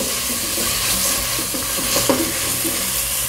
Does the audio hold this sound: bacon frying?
yes